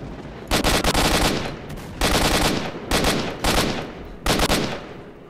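Gunfire in the shooter game STALKER: four long bursts of rapid automatic fire, loud and close, each lasting about a second with short gaps between, with echo trailing after each burst.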